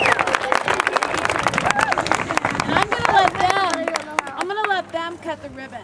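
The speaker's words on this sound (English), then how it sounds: "So give them a big round of applause." Audience clapping at a community ribbon-cutting, a burst of applause from a crowd with mixed cheering and chatter that thins out toward the end.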